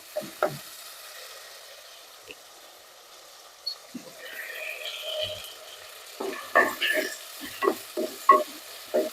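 Tomatoes with a pinch of salt sauté in a pan for a fish curry, a soft, low sizzle under quick spatula scrapes and taps that grow denser and more rhythmic in the second half.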